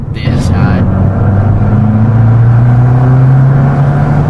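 A 2019 Abarth 595 Competizione accelerates in Sport mode, its engine a loud, continuous drone that climbs steadily in pitch as speed builds, heard close up from the car.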